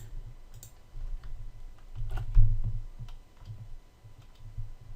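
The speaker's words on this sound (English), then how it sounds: "we'll type this into SpyFu" Someone types on a computer keyboard, keys clicking in short irregular bursts, close and fairly clear, with one busier flurry of keystrokes partway through.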